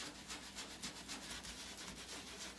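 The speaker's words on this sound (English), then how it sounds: "put you a little bit on that brush and scrub those spots" A brush scrubs homemade stain remover into spots on clothing, making a quick, rhythmic rubbing and scratching close up, with no voices.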